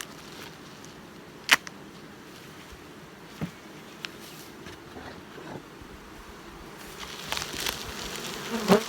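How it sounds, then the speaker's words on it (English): A steady, dense buzz of many honey bees close by across a hive's top bars, with a few sharp clicks and the humming swelling louder toward the end. "See the bees right across the top bars there"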